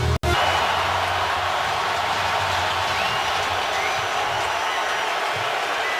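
Browns fans crowd noise filling the stadium during a Ravens at Browns NFL game in 2014, a steady, dense roar that holds loud and unbroken from start to finish.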